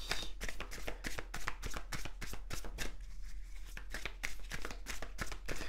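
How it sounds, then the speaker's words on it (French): Tarot cards handled and laid down during a reading, a rapid run of crisp papery snaps and flicks in an uneven rhythm, close and fairly loud, with no voice over them. "On va remettre une carte du tarot sur la carte des amis."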